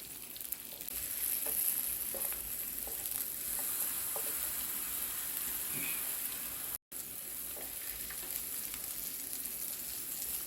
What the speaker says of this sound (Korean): 버터를 이렇게 팬에다 골고루 놔서 녹여 마늘이 맛있게 익을 수 있도록 해줄 거예요